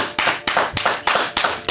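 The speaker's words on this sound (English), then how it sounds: "Let's give him another round of applause," A few sharp, rhythmic claps or taps sound close and loud for a podcast guest, roughly every third of a second in a quick, even beat with no voices.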